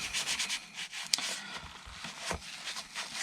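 A Scrubs in a Bucket fiber wipe scrubs a surface with quick, close, rasping strokes and one sharp scrape partway through.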